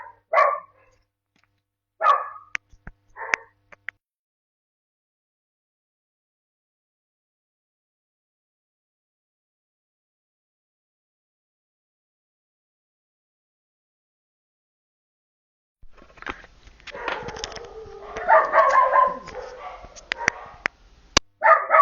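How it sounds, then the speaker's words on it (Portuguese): Several dogs at a house bark excitedly as a neighbor arrives, a short burst of barks at the start, then silence, followed by a long, loud stretch of overlapping barking and yipping near the end. "Que chega a gente, a cachorrada enlouquece"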